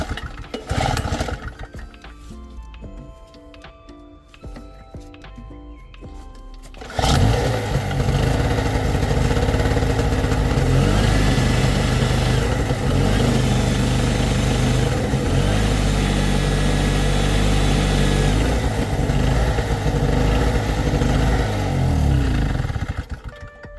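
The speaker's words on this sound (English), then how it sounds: "as we've seen, the generator now works" A small portable generator engine starts after some clattering and then runs loud and steady, droning without a break until it cuts off at the end.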